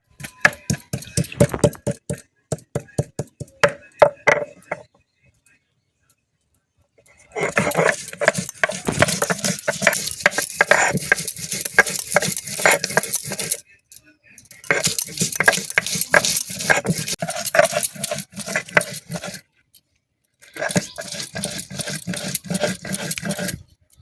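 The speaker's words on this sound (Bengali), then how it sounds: "এইগুলো সব দিয়ে আমি একটা বেটে পেস্ট বানিয়ে নেব।" Spices with green chillies and peppercorns are ground into a paste on a grinding stone, giving bursts of rapid gritty scraping and clicking strokes separated by short pauses, close and clear.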